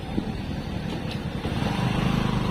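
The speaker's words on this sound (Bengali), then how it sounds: "ওইটা এখানে এক বাইক আসছে" A motorbike approaching on a road in the afternoon, a low engine rumble that swells steadily louder toward the end against outdoor background noise.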